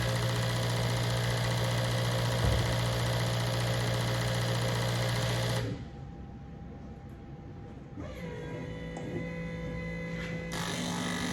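A set of 850cc fuel injectors fires on a flow bench at 128 PSI, giving a loud, steady mechanical buzz that drops to a softer, thinner drone partway through.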